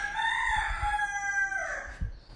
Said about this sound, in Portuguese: ou o galo começa a cantar